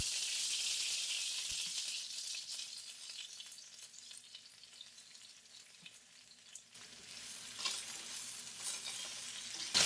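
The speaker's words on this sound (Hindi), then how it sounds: "सबसे पहले वेजेस फ्राई करेंगे।" Vegetables for Hakka noodles stir-fry in a little oil over high flame, a loud, close, hissing sizzle with sporadic stirring knocks that eases briefly before surging again; no one speaks.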